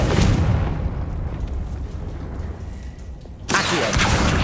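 The Confringo spell goes off in Hogwarts Legacy: a loud blast rumbles and fades over a few seconds, then a second sharp, bright burst hits abruptly near the end.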